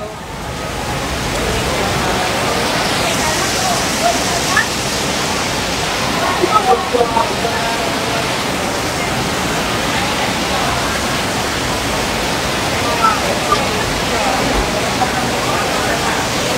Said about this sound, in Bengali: আমাদের দেশে এমন বৃষ্টি হলে ঘর থেকেই বের হবে না।